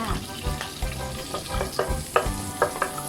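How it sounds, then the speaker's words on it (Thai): Garlic sizzles and crackles in hot oil in a wok while stir-frying pickled mustard greens with egg, with steady frying hiss and occasional scraping stirs. "พอกระทะเริ่มร้อนเราก็ใส่กระเทียมลงไปเลจ้า"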